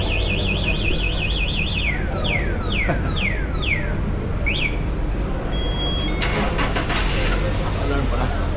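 A car alarm wails on a yacht during a basketball outing, cycling through a warbling siren and then a run of rising chirps before a burst of clattering noise, with people talking and shouting over it.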